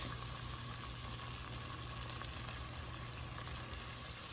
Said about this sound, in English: we're just gonna allow this to fry up for a little bit.